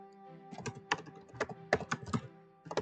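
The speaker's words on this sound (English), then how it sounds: "I am not typing well today." Typing on a computer keyboard, with irregular bursts of close, crisp key clicks and thunks at an uneven pace, no voices.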